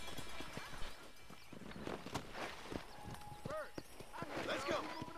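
Horse hooves clip-clop at a walk in Red Dead Redemption 2, steady soft footfalls under game ambience and a brief whinny, with someone talking over them.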